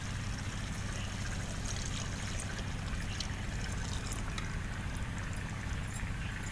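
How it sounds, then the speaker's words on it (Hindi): Water pouring steadily into a cooking pot for chana pulao, four cups added over a low stove hum, a continuous splashing trickle close by with no talk. "अब हम डाल लेते हैं 4 कप पानी।"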